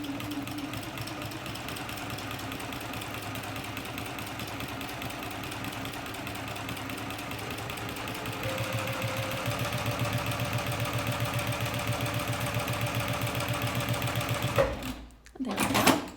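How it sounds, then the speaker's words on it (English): A sewing machine stitches steadily along a line beside a strip of tape, its motor humming with a rapid, even needle rhythm that runs nearly continuously before stopping briefly near the end. "I will now sew right next to the tape, using the tape as a guide."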